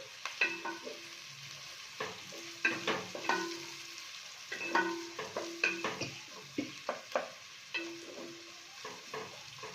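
Chopped onions sizzle and fry in a pan for a curry leaf chicken fry, with a spoon stirring and scraping in repeated strokes and clinks throughout, close and steady, with no talking.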